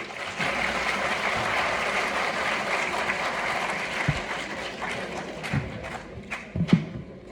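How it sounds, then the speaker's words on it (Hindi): An audience at a university short film festival claps steadily for several seconds, a dense even wash of applause with a few louder thumps near the end. "ताली बजा सकते हैं हमारी सेना के लिए।"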